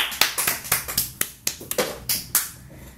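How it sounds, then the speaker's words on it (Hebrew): A few people clap at a Rosh Hashanah news-style show, loose and uneven, with sharp separate claps rather than a full ovation. "כפיים כולם."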